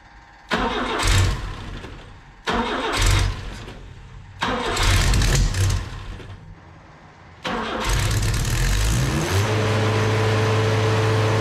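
Engine with a newly installed carburetor cranking in three short loud bursts before catching and settling into a steady close idle, with no talk.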